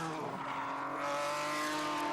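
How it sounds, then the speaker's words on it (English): A race car at a chicane on the Magny-Cours or Knockhill circuit loses control, its engine droning steadily and loudly while its tires squeal in a sustained whine over about two seconds. "Teammate Tim Mullen lost it at the chicane, trying to keep up"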